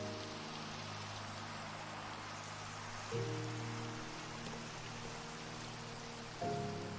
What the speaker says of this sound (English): Oh, it's raining, great.